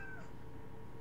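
A single short meow from a house cat indoors, faint over a constant background hum.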